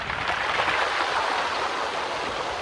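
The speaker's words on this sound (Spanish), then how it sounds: "El sonido del mar en las piedras de Paracas" Sea waves wash over the stones at Paracas beach in Peru, giving a steady, close hiss of water surging through rocks with no distinct breaks or voices.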